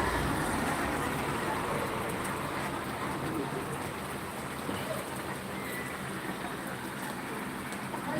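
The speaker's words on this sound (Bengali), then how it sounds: "বৃষ্টি ভালোই পড়ছে" Steady rain falling beside a roadside on a wet day, an even broadband hiss that stays constant throughout, with faint background ambience and no clear voices.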